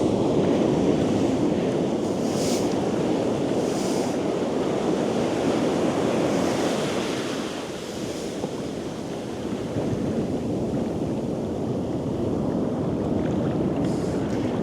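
Surf waves washing steadily onto a beach during Christmas-time beach fishing, a continuous loud rush of breaking water with wind buffeting the microphone throughout and no talk.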